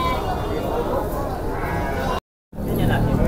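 Large Garut sheep at a livestock market bleat amid steady crowd chatter and close talking, with the busy market din cutting out briefly near the end.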